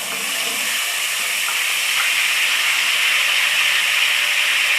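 Garlic ginger paste fries with bay leaves in a hot pan, giving a steady, even sizzling hiss that continues unbroken throughout, close and alone without any talking.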